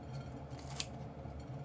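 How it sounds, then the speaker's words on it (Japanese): Quiet snipping of scissors cutting, with a soft steady rhythm and one sharper snip near the middle, close up and with no talk. "これもちょっとハサミで切っちゃおう。"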